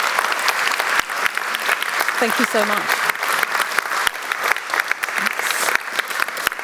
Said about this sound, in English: Can I have one round of applause, please, for our amazing guests?